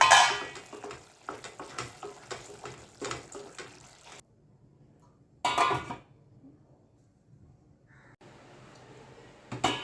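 Jowar usal being sautéed in a pan, heard as scraping and stirring clatter of a utensil against the cookware in bursts, then quiet gaps and a faint sizzle.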